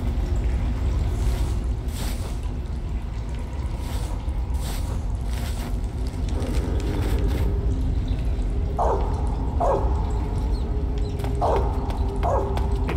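A dog in the Metal Gear Solid 3 video game barks a few times, sharp short yaps emerging over a steady mechanical rumble and ambient game noise.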